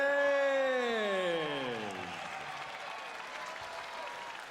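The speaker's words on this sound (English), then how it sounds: "Round of applause for Magomed Abdusalamov." At a heavyweight boxing match between Mike Perez and Magomed Abdusalamov, an arena crowd applauds and cheers. A ring announcer's long, drawn-out call falls away into a steady, fairly faint crowd roar.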